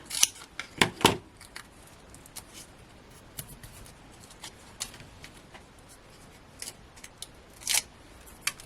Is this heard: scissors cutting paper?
yes